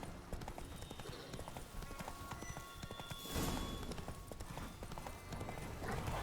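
Hooves of the horse Roach clip-clop at a quick gallop in The Witcher 3, rapid close rhythmic thuds running throughout with brief snorting and a voice speaking faintly in the background.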